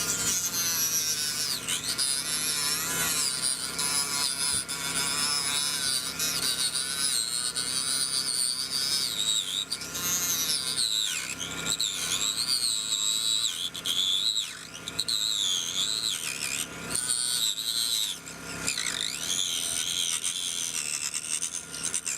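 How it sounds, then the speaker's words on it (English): Dremel rotary tool cutting PVC tubing for sailboat shroud chafe protection, a continuous high-pitched whine that wavers and shifts in pitch as the bit bites in, close and steady throughout. "Now we'll try the Dremel."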